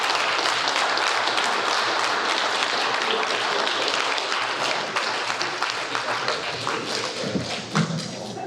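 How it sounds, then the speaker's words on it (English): Applause from a community forum audience, dense clapping and thumps holding steady for several seconds before thinning out, moderately loud and close. "Give them a round of applause."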